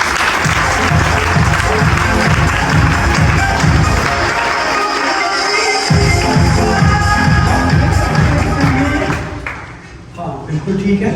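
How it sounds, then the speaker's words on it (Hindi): An indoor audience claps to welcome a volunteer during a product skills demonstration, a dense and steady burst of applause lasting about nine seconds before thinning out as a voice speaks. "आज वेलकम करेंगे इनके लिए भरपूर ताली।"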